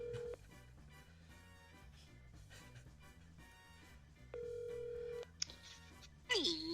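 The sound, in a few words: telephone dialing and ringing for a call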